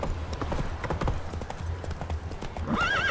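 Roach, the horse in The Witcher 3, gallops with steady rhythmic hoofbeats close by, mixed with game ambience, and a short neigh rises near the end.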